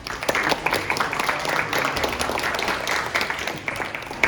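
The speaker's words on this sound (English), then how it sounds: "Give yourselves a round of applause." A small group of Survivor finalists clap for themselves at a season finale, a steady, close patter of hands with scattered sharper claps throughout.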